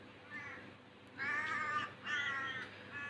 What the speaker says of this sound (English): See the bird flying outside.